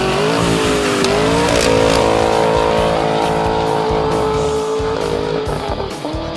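A 2020 Ford F-150 with a 5.0 V8 and Magnaflow true dual exhaust roars loud and close, its engine note holding steady and shifting pitch slightly for several seconds.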